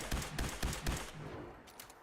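Gunshots in the video game Dealing with the Atom come as a quick series of four or five loud, close reports in about a second, followed by a fading tail and a couple of fainter shots.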